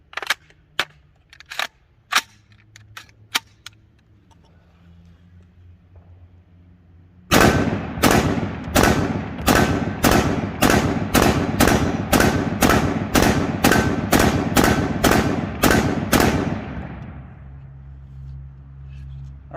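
Ruger SFAR rifle firing steel-cased ammunition from a P-mag, a rapid string of about fifteen loud, sharp shots at a steady pace, preceded by a few quieter clicks and handling noises.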